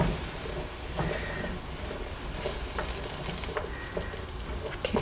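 Hawaiian meatballs crisping and bubbling in a pan, a steady close sizzle with faint crackles and occasional stirring scrapes, no voices.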